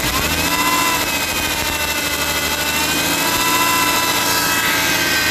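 A Ford Taurus engine with a P0622 charging fault revs under throttle, giving a loud, steady, close mechanical roar with a sustained whine and no pauses.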